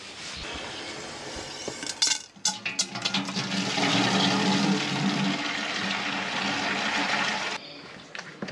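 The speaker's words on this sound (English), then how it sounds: "I then fill up the rest of the watering can with water." A watering can fills from a tap, starting with clinks and a few splashes and then turning into a loud steady rush of running water that stops abruptly near the end.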